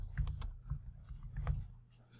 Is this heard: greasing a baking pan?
no